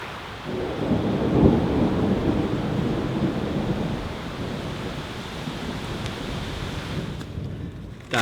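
Thunder rolls and rumbles through a rainstorm beside the Ovens River near Bright, a loud, sustained low roar with steady rain and wind, easing slightly toward the end.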